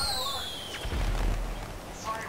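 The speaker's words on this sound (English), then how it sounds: "I killed him with a firework launcher." A firework launcher fires in the GTA Online video game, giving a deep, booming explosion with whistling streaks before it, heard under game noise.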